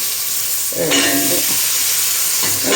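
Vegetables tipped into a hot pan for a village-style tamarind curry, with a burst of sizzling frying noise and some stirring, close up and with no one talking.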